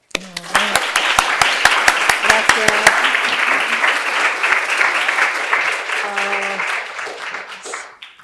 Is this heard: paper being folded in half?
no